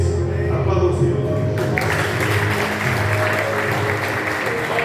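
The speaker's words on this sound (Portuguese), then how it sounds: "Aplauda o Senhor." Congregation in a church applauding the Lord, a steady dense wash of clapping that runs unbroken throughout, loud and close, with a hum of voices and music beneath it.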